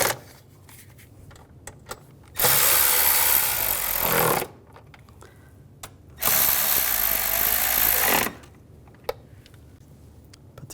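Fasteners are tightened on a 2006-2010 BMW 550i 4.8L V8 engine during a spark plug job, heard as two loud, close bursts of a power tool, each about two seconds long, separated by quiet gaps with small clicks.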